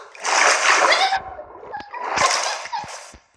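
A loud splash of falling into water in Minecraft, two bursts of splashing separated by a short pause, with faint clicks between them.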